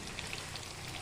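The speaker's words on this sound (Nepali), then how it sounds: "अब म यसमा प्याज ओइरिन्छु।" Onions tipped into a pan of reddened chicken pieces frying for a Nepali chicken curry, giving a soft, steady crackling sizzle with fine spattering pops, faint and close, with no talking.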